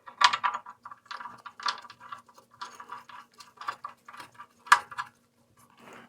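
A hand ratchet clicks in short, uneven bursts, close and crisp, as it tightens an engine oil drain plug fitted with a new Dorman washer.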